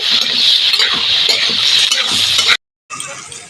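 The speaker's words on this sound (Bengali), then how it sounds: "কাঁকড়া মাছটা একটু ভেজে নেব ভালো করে" Crab pieces fry in hot oil with a loud, close sizzle and clinks of a spoon stirring against the pan. The sound cuts out briefly, then the frying resumes.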